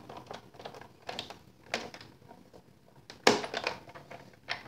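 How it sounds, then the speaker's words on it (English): A Big Shot die-cutting machine cranks cutting plates through with a series of uneven clicking and ratcheting bursts. One louder clunk lands partway through, close and without talk, during a Christmas card project with Flourish framelits. "And run that through the Big Shot machine."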